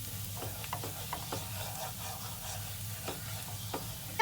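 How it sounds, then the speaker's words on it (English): Garlic sautés in a pan for Spanish garlic potatoes, a soft, continuous sizzle broken by light stirring scrapes and taps, with no talking. "we're going to saute that until they start to get golden brown"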